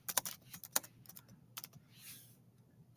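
Quick bursts of computer keyboard typing as a comment is entered on a slide, with several sharp key clicks clustered early and a few more near the middle, close and fairly quiet with no talking.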